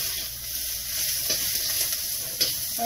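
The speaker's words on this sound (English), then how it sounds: "We'll just really cook the onion for maybe like a minute" Onion sizzling and frying in a hot pan for a shrimp chopsuey, a steady close hiss with a few soft stirring scrapes and no talk.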